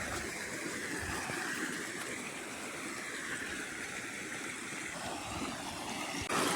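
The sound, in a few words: water pump motor running, water flowing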